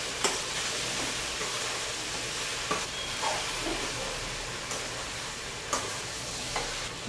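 Potatoes fry in hot oil in a pan, a steady sizzle and hiss broken by several sharp scraping clacks of stirring spread across the clip.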